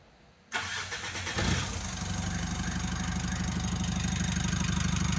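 A car engine cranks briefly and catches, then settles into a steady, rhythmic idle close by, loud and continuous, with a scan tool in use on the vehicle.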